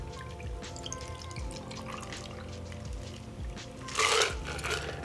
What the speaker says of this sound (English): This gets poured directly over ice.